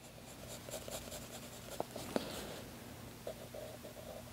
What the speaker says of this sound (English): I have my 4B pencil, just some cross hatching to darken that up